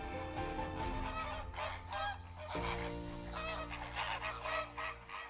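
Migratory flamingos by the Mumbai Trans-Harbour Link give a dense, continuous chorus of loud honking calls, many birds overlapping near and far without pause.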